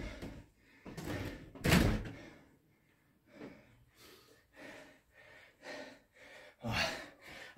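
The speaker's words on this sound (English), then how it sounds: "So I'm going to open the door." A door opened during an outdoor kettlebell workout on a rainy day: a close thump and creak followed by heavy breathing and rustling movement, with no talking.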